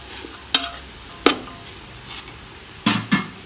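Chicken fried rice sizzles steadily in a hot pan while a utensil stirs it, with several sharp metallic scrapes and clanks against the pan at irregular intervals and no talking.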